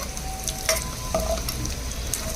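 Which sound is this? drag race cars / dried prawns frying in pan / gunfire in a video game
dried prawns frying in pan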